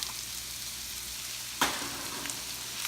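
Shrimp paste (bagoong) frying in a pan for ginataang laing, a soft steady sizzle with a sharp clatter of a utensil partway through, fairly quiet and without speech.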